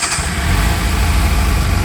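A Yamaha YZF 600 Thundercat motorcycle with a Micron exhaust runs close by, its engine holding a loud, steady low rumble after a brief opening burst.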